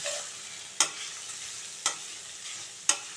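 Ingredients sautéed in a pan for a Tamil rice kanji and raw mango chutney meal: a soft steady sizzle with three sharp scrape-like clacks of a spoon against the pan, spaced about a second apart, close by.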